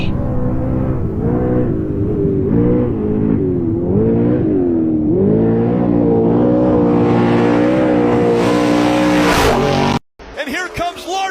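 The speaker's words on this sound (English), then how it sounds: "Off-road RC race" Off-road RC cars racing around a dirt track, with high whining motors rising and falling continuously over steady crowd babble and commentary, ending in a brief cutoff.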